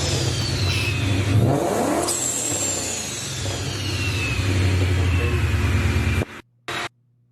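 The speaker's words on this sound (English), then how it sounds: "It's a Paxton with the Max Flood race blow-off valve" A car fitted with a Paxton supercharger and a race blow-off valve revs and whooshes, its whine sweeping up and down over a mid-pitched engine roar for about six seconds before sudden near-silence and a short final burst.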